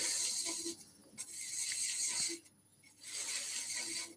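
A thread chaser cutting threads into wood on a lathe gives off faint, rhythmic scraping hisses in repeated passes, with short pauses between strokes and no speech.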